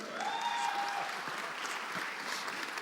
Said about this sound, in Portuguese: Palmas para ele, gente.